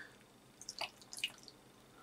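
Water dripping and splashing from wet casting moulds as they are banged down, a few quick faint splats and drips in a quiet room.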